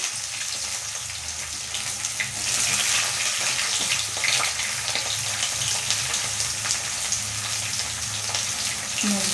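Onions go into hot oil already holding tempering spices and fry with a loud, steady, close hiss and crackle that runs unbroken, with no voices over it.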